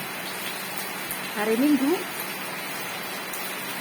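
Steady rain falls on a Sunday morning, giving an even hiss throughout while a voice speaks briefly over it.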